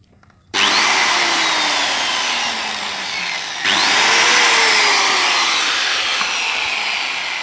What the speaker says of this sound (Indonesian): Sekarang sudah saya masukkan ke stafol, saya akan menggunakan gerinda